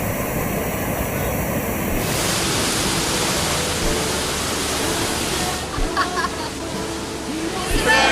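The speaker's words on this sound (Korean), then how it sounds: "헐몬산의 눈이 녹아 모여서 떨어지는 바니아스 폭포" Banias waterfall, fed by snowmelt from Mount Hermon, roaring as a loud, continuous dense rush of falling water that holds steady throughout, with a faint brief voice near the end.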